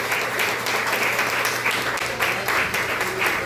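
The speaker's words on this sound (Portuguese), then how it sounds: "aplauda o nome de Jesus" Sustained applause from a large church congregation indoors, a dense wash of clapping that holds steady throughout.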